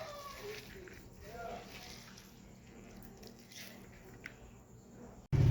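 Salted chopped papaya being rinsed in water for a home-cooked papaya dish: a soft, steady wash of splashing and squishing runs throughout, close but fairly quiet, ending with a sudden loud knock.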